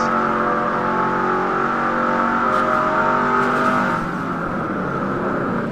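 A race car engine in a video game stock car race at New Hampshire, heard from the onboard cockpit view, holds a loud, steady, high-revving drone that eases slightly near the end, with no talk.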